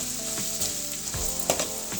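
Red chilli powder and Malvani masala sauté in hot oil in a pan, giving a steady close sizzle with a few soft stirring knocks, no talking.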